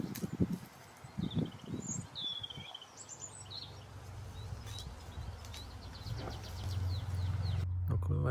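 Small bird singing from an exposed territorial perch in a pasture: a few brief, high chirps and trills, fairly faint and distant, with rustling and someone talking nearby.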